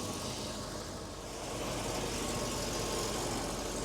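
A Holden VP Senator car engine idling in neutral after a transmission service, a steady even rumble with broad hiss, close and moderately loud, with no speech.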